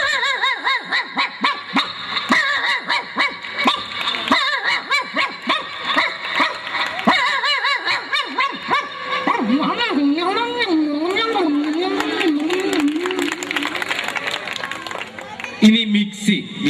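On a comedy stage, a man vocally imitates the barking of a native street dog with a run of rhythmic barks and yelps, followed by wavering howl-like cries while the audience chuckles.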